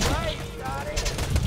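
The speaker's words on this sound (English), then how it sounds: "I'm running away from gunfire like a boss." Rapid gunfire and explosive bursts in Borderlands 2, dense and loud throughout, with a voice speaking over the shooting.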